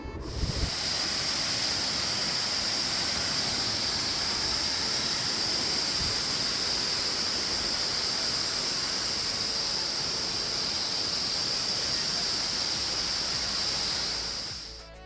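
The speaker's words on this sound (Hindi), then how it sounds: "रास्ते में एक बहुत ही प्यारा वाटरफॉल मिला, तो कुछ समय वहाँ बिता के वीडियो बनाने लगे" A roadside waterfall on the way to the Dhari Devi temple gives a continuous, even rushing roar that stays steady from start to finish.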